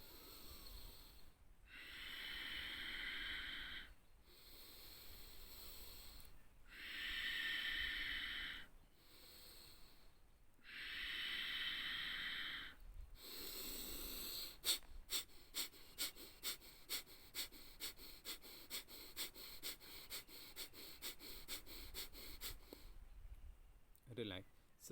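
Kapalbhati pranayama breathing: a few long forceful breaths in slow groups, then a fast run of sharp, rhythmic nasal exhalations, close to the listener, with some talking alongside.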